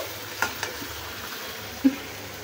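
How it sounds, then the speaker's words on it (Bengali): Potatoes and tomatoes cooking in a pan, a soft continuous sizzle with a few light knocks and one louder clack of a spoon against the pan, close by and without talk. "এই যে আমি এখানে রান্না করছি আলু দিয়ে আর টমেটো"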